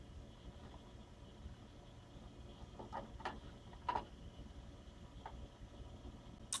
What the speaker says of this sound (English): And yes, that is the sound of the computer, the fan.